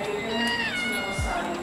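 A cat gives a single drawn-out meow, close and clear, with a soft thump near the end in an apartment under renovation.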